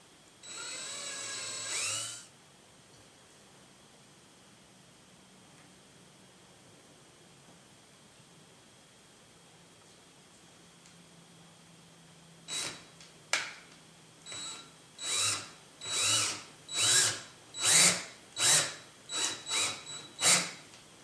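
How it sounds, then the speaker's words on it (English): A cordless power drill pre-threads ball links on a 550L RC helicopter build, heard as a brief whir, a long quiet pause, then a series of short, evenly spaced spin-ups close by. "I'm going to use a drill to help me start these"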